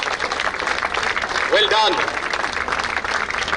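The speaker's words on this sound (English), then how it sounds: "Keep the claps going." Audience applause at a badminton tournament prize distribution, steady clapping filling the room throughout while a voice speaks briefly over it.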